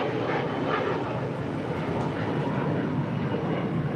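Jet aircraft on the runway at LAX, a steady loud roaring engine wash that holds constant throughout, broad and fairly close, with no talking.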